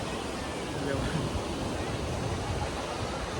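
Sea waves wash in at Arnala beach, a broad steady roar of surf mixed with wind, constant and fairly loud with no distinct breaks or voices standing out.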